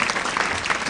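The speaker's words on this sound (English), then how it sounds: "I'll just play my own applause." A played applause sound effect: dense, even clapping and cheering filling the short stretch, loud and close with no pauses.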